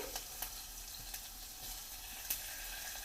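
Mustard seeds, cumin, sesame, ajwain, turmeric and cut chili sizzling in hot oil for a Kolhapuri misal tempering, a faint steady hiss with occasional soft pops and crackles.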